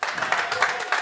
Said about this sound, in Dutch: En een mooi applaus van iedereen.